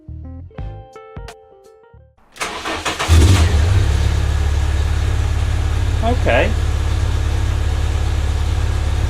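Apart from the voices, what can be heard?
car engine revving with newly installed exhaust system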